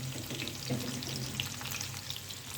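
Chopped onion frying in hot oil with cumin, a dense, steady crackling sizzle heard close up with no talking.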